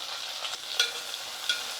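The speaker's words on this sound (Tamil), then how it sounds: "இப்போ வந்து வெங்காயமும் கருவேப்பிலையும் சேர்த்துக்கிறேன்." Onions and curry leaves go into hot oil with sautéed garlic for a brinjal and okra tamarind curry. A soft, steady sizzle plays with a couple of faint utensil clinks.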